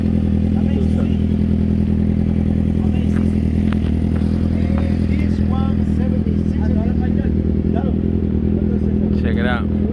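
Chopper motorcycles idling and rumbling at Daytona Bike Week, a loud, steady low engine drone close by with clatter and crowd chatter on top, and people talking over it.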